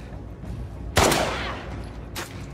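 Gunfire in the video game The Last of Us Part II: one loud, close shot rings out with a trailing echo, followed a second later by a fainter second shot.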